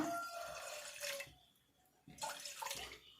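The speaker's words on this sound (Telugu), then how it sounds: "ఒకటిన్నర గ్లాస్ నీళ్ళు పోసేసినాము" About one and a half glasses of water are poured into a pot while preparing a homemade herbal hair dye, with soft splashing in two short bursts separated by a brief pause.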